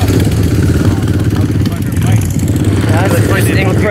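Motorcycle engines rumble and idle loudly up close at Florida's biggest biker event, a steady throbbing drone throughout as people talk over it.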